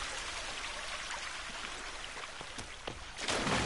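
A waterfall in a video game gives a steady rushing, splashing wash with scattered drip-like ticks, swelling a little louder at the end.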